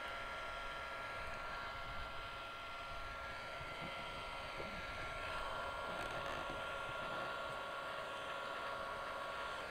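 A heat gun blows steadily while shrinking window tint film along the bottom edge of a Chevrolet Silverado window, a continuous loud airy whoosh with no talk.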